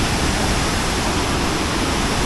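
Roaring cascade of a waterfall about 93 metres high in Banyumas, a dense, steady rush of falling water filling the scene loudly and evenly with no voices.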